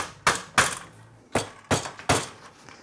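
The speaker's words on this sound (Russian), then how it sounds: "Берем керн, молоток. И надо все точки вот так" A hammer strikes a center punch to mark points on metal during sabre and shield making, five sharp, ringing metallic taps at irregular intervals, close and clear.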